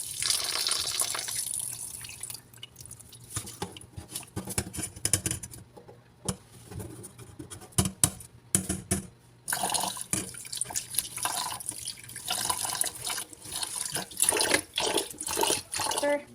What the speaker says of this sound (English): And then rinse again.